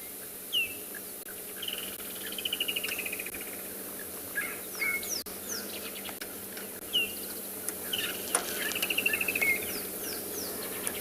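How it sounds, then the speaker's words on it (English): A foam nest frog calls in the background of a South African morning safari, its repeated clicking and chirping notes coming in short bursts alongside insect and bird sounds, fairly faint and distant. "I can even hear a foam nest frog in the background."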